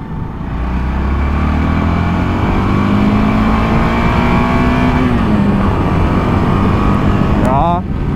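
A 2021 Voge 650 DS adventure motorcycle pulls hard in second gear, its engine note climbing steadily and loud from onboard, then easing as a quick upshift or roll-off follows near the end, with a rider's voice over it.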